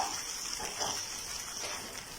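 Almonds sizzle in hot ghee with a steady, close hiss and crackle that stays even throughout, with no voices.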